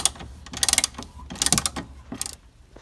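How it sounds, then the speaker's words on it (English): A hand ratchet retightens the steering wheel mounting nuts on a 1966 Mustang Fastback, giving three quick bursts of close, crisp clicking separated by short pauses, with no talk. "now I just need to retighten the nuts that hold it here at the bottom"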